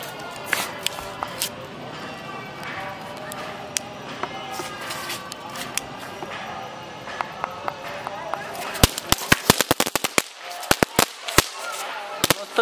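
Small Diwali firecrackers pop and crackle in scattered bursts, then a rapid run of sharp loud bangs near the end, with talk in the background.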